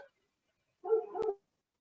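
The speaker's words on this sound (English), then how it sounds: "I heard dog." A dog heard indoors gives a short bark or whining yelp, one brief faint sound after a stretch of silence, with no talking.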